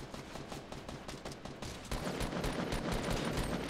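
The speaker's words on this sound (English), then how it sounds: "I heard some gunfire over there." Rapid bursts of gunfire in the Fortnite video game, a dense crackling string of shots that grows louder and more continuous partway through, heard alone without talk.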